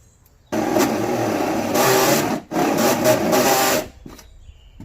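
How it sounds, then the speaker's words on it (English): A power drill whirs steadily through a hole in two long bursts with a brief pause between, then cuts off, during a backyard waterfall and koi pond LED light install. "Just got the hole drilled."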